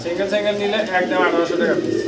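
Pigeons at a seller's loft coo in a steady, continuous murmur close by, overlapping with a voice talking throughout.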